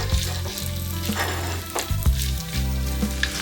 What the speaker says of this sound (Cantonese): 我哋落油，然後落五柳絲炒